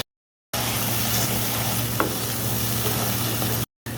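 Spices and tomatoes sizzle steadily in a hot pan, a dense, even frying hiss with a faint stirring scrape partway through, close and continuous, with no talking.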